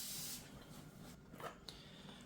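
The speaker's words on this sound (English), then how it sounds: "I like to always spray some WD-40 on a fresh drilled surface just to make sure it's nice and clean" A WD-40 aerosol can gives a short hissing spray onto freshly drilled steel on a tractor bucket, the burst fading quickly into a quiet background.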